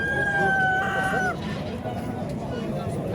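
A rooster at a busy Tashkent poultry market gives a clear, drawn-out crow for about a second, then breaks off, over a steady crowd murmur and background chatter.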